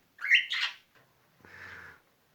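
Pet birds calling in an indoor bird room where they fly free: a bright chirping burst followed by a softer, raspier call, fairly close and otherwise quiet.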